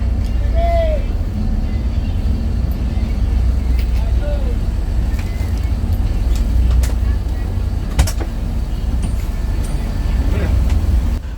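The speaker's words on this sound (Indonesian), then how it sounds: "Selepas dari rumah makan, bus melanjutkan perjalanan menuju ke Pekanbaru." A long-distance bus rolls along an Indonesian toll road toward Pekanbaru, its steady low engine and road rumble filling the cabin, with faint thumps and a brief clank along the way.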